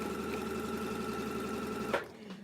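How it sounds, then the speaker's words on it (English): A domestic sewing machine stitches a quilt block, a steady close mechanical whir that stops abruptly near the end. "So I'll move my needle over 1 bop more than normal on my sewing machine."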